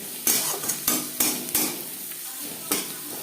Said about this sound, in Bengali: সবার প্রথমে আমি পেঁয়াজ ভেজে নেব আর দিয়ে দেব খুবই সামান্য পরিমাণে হলুদের গুঁড়ো।